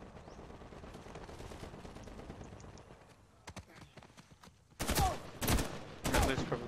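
Gunfire in the Uncharted 4 multiplayer video game, faint scattered shots at first, then three loud, sharp bursts of rapid fire near the end.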